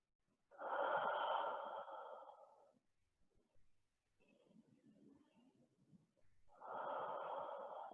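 Slow, deep breaths during yoga practice, each long inhale and exhale clearly audible up close, with a quieter, softer breath in the middle before another strong one.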